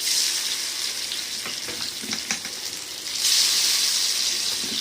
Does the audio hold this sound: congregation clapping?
no